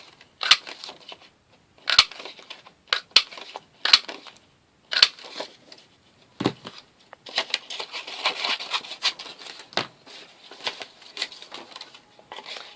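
A 3/4 inch craft punch cutting paper shapes for a card-making project, giving a run of sharp separate snaps and crunches, then a denser patch of crinkly paper handling, close and alone with no talk.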